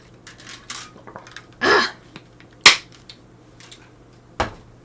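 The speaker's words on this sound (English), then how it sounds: "Drinking water out of my shaker bottle. That's why it's so loud." A plastic shaker bottle with a wire whisk ball inside has its snap cap clicked and rattled while someone drinks water, giving a few sharp, separate snaps and clatters spaced over a quiet room.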